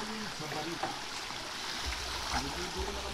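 River water flowing steadily at the Calabuso river where people are bathing, a continuous close rushing wash with faint low murmurs underneath.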